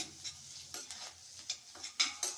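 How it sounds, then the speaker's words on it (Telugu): Coarsely crushed garlic cloves and curry leaves fry in a pan, a quiet sizzle with a few soft clicks of a spoon stirring, close but faint. "కచ్చా పచ్చాగా దంచి పెట్టుకున్న వెల్లుల్లి రెబ్బలు, వేపాకు, ఇలా వెల్లుల్లి వేగాలండి దోరగా"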